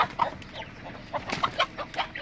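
Hens cluck and chatter in a village coop in the countryside, several short, uneven calls overlapping at close to mid range over a quiet background.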